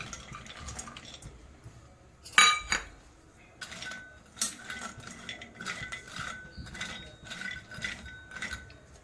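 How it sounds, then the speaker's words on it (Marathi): Cashews rattle and scrape against a hot metal kadhai as they are lightly roasted, with irregular clinks and clatters as they are stirred, close and moderately loud. "इथे कढई गरम झालेली आहे आपल्याला काजू हलकेसे भाजून घ्यायचे आहे"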